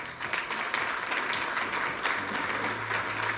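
Audience applause at a financial outlook event, a steady wash of clapping from a seated crowd throughout, fairly soft and continuous.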